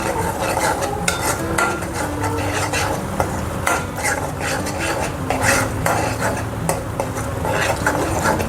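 Spiced misal gravy with turmeric and red chilli powder is stirred in a pan, a steady scraping and clinking of spoon on metal with a soft sizzle running throughout, close and fairly loud, no voices.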